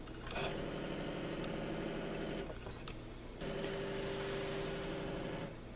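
A stepper motor driven by an A4988 microstepping driver turns a motorized digital TV antenna mount, giving a steady mechanical whine with tonal hum that pauses briefly midway and then resumes, close and continuous, with no talking.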